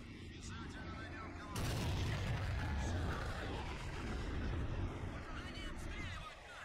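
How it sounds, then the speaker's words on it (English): Artillery fire strikes a building in a World War II video game set in the Berlin suburbs in 1945, a sudden heavy boom that gives way to a long rumbling roll of explosion and debris before fading. "we're going to try and smack it with some artillery"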